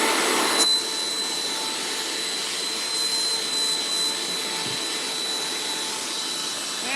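A small vacuum cleaner sucks up fabric scraps from a craft work area, a steady, fairly loud whooshing drone that runs unbroken for the whole stretch with no voices over it.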